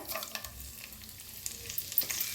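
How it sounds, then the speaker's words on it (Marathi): Whole spices crackle and sizzle in hot oil in a kadhai, a close, busy spitting sound with small pops and a few stirring scrapes. "सगळे खडे मसाले घेतले होते ते सगळं पहिलं फ्राय करून घेऊया."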